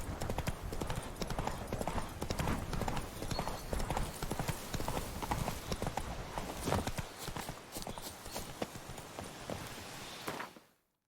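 The horse Roach's hooves clip-clop steadily and close by in The Witcher 3, a busy, even walking rhythm that carries on for several seconds and then cuts off abruptly.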